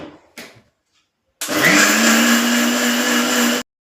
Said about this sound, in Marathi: याच्यामध्ये थोडंसं पाणी टाकून हे मिक्सरला आपल्याला फिरवून घ्यायचं आहे.